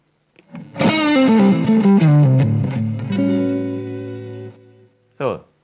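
Electric guitar played through an AMP1 amplifier on a low-gain blues tone: a short descending run of notes that settles into a sustained, ringing chord, then a brief squeak of string or pick noise at the end.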